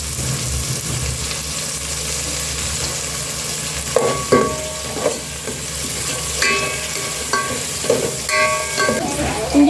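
Onions sizzle in a pan of coconut oil, a constant frying hiss with occasional stirring clinks and scrapes close by, no talking.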